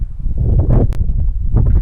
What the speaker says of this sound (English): It's extremely windy, as you can see.